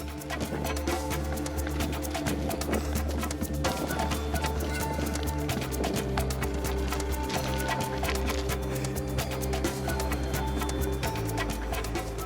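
Horse hooves clop in a steady rhythm close by, with a constant low hum and rustling movement mixed in throughout.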